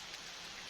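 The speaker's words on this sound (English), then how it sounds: "Absolutely finally got rain." Rain falls on a homestead after a long dry spell, a brief, even, steady hiss of drops on surfaces, soft and with no voices.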